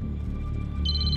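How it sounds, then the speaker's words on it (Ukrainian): A waitress's mobile phone rings in a TV crime drama: a steady electronic tone that brightens into a sharp, high ringing chirp, heard alone. "Це телефон офіціантки Аріни."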